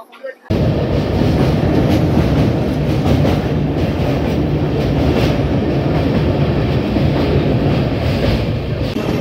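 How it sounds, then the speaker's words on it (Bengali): Humsafar Express train running through Kalinarayanpur Junction, a loud steady rumble with rhythmic clickety-clack of wheels on rails heard from on board, continuous throughout. "আমাদের ট্রেন এখন স্কিপ করছে কালীনারায়ণপুর জংশন।"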